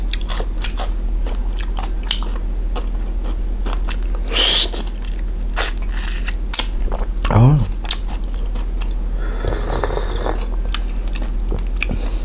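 Crunchy biting and chewing of French oysters imported for a seafood tasting, close and repeated in short bursts over a low steady hum, with no talk.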